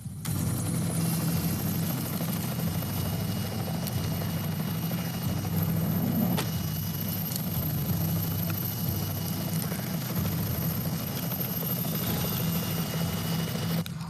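A rescue helicopter runs steadily at an accident scene during a mountain rescue operation, its low rotor thump and turbine whine holding loud and constant, with a brief sharp knock midway.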